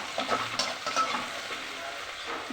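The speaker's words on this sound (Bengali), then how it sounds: "রুটির সঙ্গে হচ্ছে ভেন্ডি ভাজা, পেঁয়াজ দিয়ে পোস্ত দিয়ে ভেন্ডি ভাজা।" Okra frying in a pan with sliced onion and poppy seeds gives a steady, close sizzle with soft scraping from stirring throughout, and no voices.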